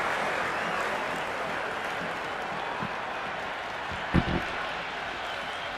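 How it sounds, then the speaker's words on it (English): A simulated stadium crowd in the video game Cricket 26 keeps up a broad, steady roar through an IPL-style match, with a brief louder burst of applause near the end. "There's a almost tangible fervour throughout the crowd at the moment."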